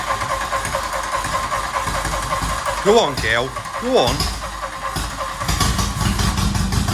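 An engine firing up on a barn-find VW Golf GTI MK1 running with no exhaust pipe fitted, rough and noisy mechanical rumble that swells toward the end, with voices talking over it.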